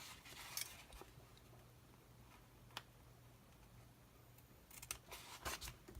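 Scissors trim paper in a planner with a few faint, quick snips and rustles, scattered at the start and clustered near the end, over quiet room hiss.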